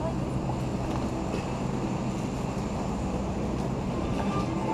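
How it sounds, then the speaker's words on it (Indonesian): The Taksaka passenger train rumbles steadily as it arrives at Gambir station in Jakarta, a loud, continuous rolling roar with faint voices mixed in. "saat ini rangkaian kereta api Taksaka sudah tiba di stasiun Gambir"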